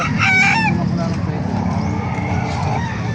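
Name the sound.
rooster crowing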